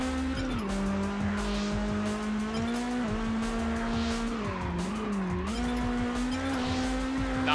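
Tires squeal and skid as a car drifts in Test Drive Unlimited on PS2, a loud sustained screech over a humming engine whose pitch dips and rises through the slide, with no talk.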